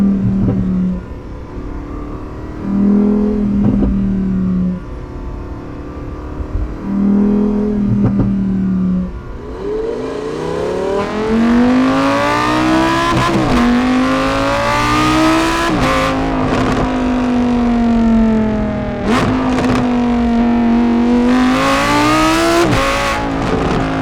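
A Lamborghini Huracan STO fitted with a titanium Akrapovic exhaust blips its engine in short bursts, then climbs into long, loud rising and falling revs with sharp crackles layered through the high-rpm wail.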